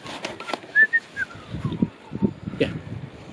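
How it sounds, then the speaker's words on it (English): A person whistles a few short, high notes, quiet and close, on an allotment garden, mixed with rustling and soft background noise. "Are you whistling?"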